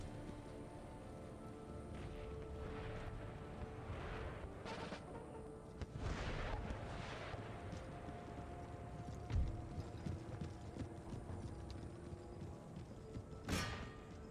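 Empire Total War battle: distant mortar thuds and gunfire mix with cavalry hoofbeats and a steady rumble of battlefield noise, with a sharp crack near the end, faint and dense, with no talking.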